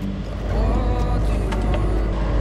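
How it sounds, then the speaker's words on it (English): A sailboat's engine runs with a steady low droning rumble, loud and close, under wind and water noise aboard the boat. "We've got the engine running."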